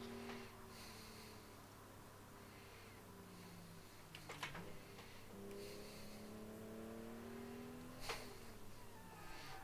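A car engine in a Wangan-style street racing game revs high and steady through traffic, its tone rising and falling across a few gear changes, with brief whooshes of passing cars. The whole run is quiet.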